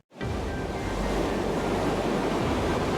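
Loud, steady roar of surging river water rushing past close by, a dense continuous wash of broadband noise that fills the whole clip with no voices.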